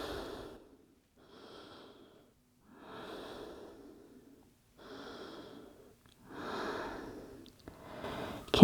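Slow, deep breaths drawn in and out during a yoga child's pose in an at-home vinyasa session, soft and close, with steady inhales and exhales repeating at an unhurried pace.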